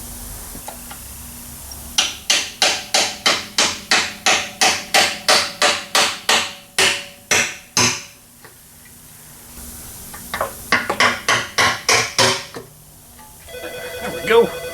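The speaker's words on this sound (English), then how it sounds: "Driving sleeves into engine blocks with a sledgehammer." Sledgehammer driving sleeves into an engine block on an Infiniti QX56, a long run of loud, evenly spaced metallic blows, a pause, then another quick burst of strikes, ringing up close in a workshop.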